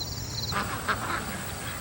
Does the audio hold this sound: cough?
no